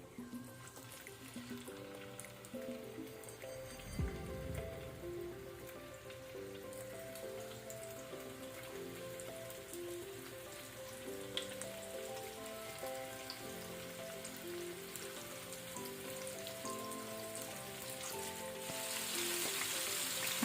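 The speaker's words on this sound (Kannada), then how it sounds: "ಎಣ್ಣೆ ಬಿಸಿಯಾದ ನಂತರ ನಾವೀಗ ಪ್ರಾನ್ಸನ್ನು ಫ್ರೈ ಮಾಡುವ" Tiger prawns fry on a hot tawa with a soft, continuous sizzle and crackle, quiet beneath steady background music, growing slightly louder near the end.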